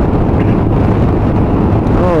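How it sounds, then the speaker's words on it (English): Loud, constant wind buffets the microphone, a thick roaring rumble throughout. "it's windy"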